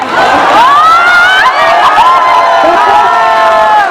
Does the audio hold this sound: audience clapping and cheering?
yes